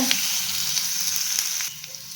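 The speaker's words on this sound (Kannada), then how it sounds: "ನೀವು ಸ್ವಲ್ಪ ಹುರಿಬೇಕಿದೆ." Hyacinth beans frying in a pan for avarekaalu palya, a close, steady sizzle with faint stirring taps that drops slightly in level near the end; no speech.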